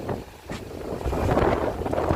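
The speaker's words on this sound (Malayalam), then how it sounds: "നല്ല കാറ്റ് കേട്ടോ, ഒരുപാട് കാറ്റ്" Strong gusts of wind rumble and buffet the microphone, swelling and rising in force.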